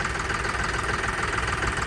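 A John Deere 5210 tractor engine idles steadily and continuously, with a dense low-end throb and a constant mechanical hum throughout.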